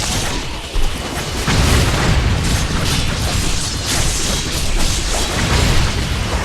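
Rocket launcher explosions boom continuously in Ninja Gaiden 3: Razor's Edge, a loud, dense wall of blasts and crashes with a sharp burst near the start.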